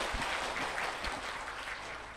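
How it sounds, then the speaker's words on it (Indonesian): Audience applause at a motivational talk in Indonesia, a steady dense wash of clapping that holds at an even level throughout, with no voices over it. "Tepuk tangan dong."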